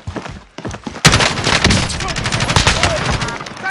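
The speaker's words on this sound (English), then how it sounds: "Taking fire here!" Loud, close video-game gunfire, with a sudden burst of rapid automatic shots that continues steadily after a short quieter lead-in, the shots crowding together into a dense rattle.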